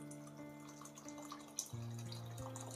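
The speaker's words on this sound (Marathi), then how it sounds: "यात आपण आता पाणी टाकूया गरम." Hot water is poured into a pot of colourful vegetable pulao made with basmati rice, four cups of water to two of rice, giving a soft, steady liquid pour with light splashing under a low kitchen hum.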